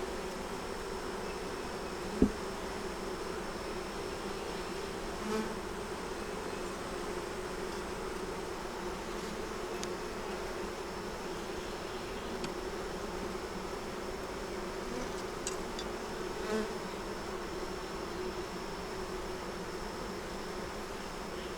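Honey bees hum steadily in an open hive full of capped brood, a continuous even drone with faint rising buzzes, one sharp click near the start, no talking.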